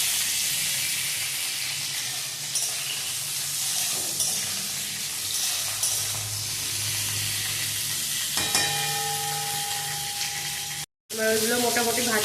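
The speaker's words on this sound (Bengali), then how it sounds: "পটলগুলো দিয়ে দেবো, পটলগুলো একটু ভেজে দেবো" Pointed gourd pieces fry in hot oil with a steady close sizzle and some stirring, the sound briefly cutting out near the end before resuming.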